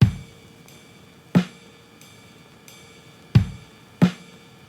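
Programmed slowcore drum pattern built in FL Studio, with spaced kick and snare hits and a steady ride cymbal ringing between them, a loose, sparse groove heard alone with no talking.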